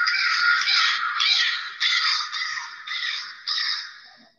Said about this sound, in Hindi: इस पक्षी का नाम है कौवा।